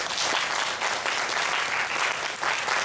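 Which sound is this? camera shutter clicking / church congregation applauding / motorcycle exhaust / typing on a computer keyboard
church congregation applauding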